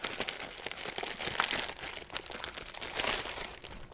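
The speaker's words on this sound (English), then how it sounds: "Let's rip it open." Emergency food packaging is ripped open with continuous close, loud crinkling and crackling of stiff plastic wrap for several seconds.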